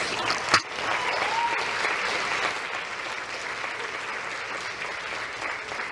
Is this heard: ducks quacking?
no